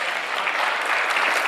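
Audience applause for a dancer at a Bharatanatyam arangetram, a dense, even wash of clapping from a hall full of people, sustained and moderately loud with no voices over it.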